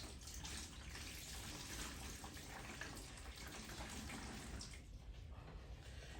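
Water splashes steadily while a dirt bike air filter is washed and worked in a basin or sink, a continuous close wash of running and sloshing water with no talking.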